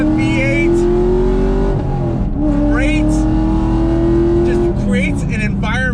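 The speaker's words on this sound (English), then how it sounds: "on throttle, here we go. That sound of that V8" Chevrolet Camaro SS 1LE V8 with a six-speed manual, pulling hard on throttle: a loud, continuous engine roar rising in pitch through gears with brief dips at shifts, with someone talking over it.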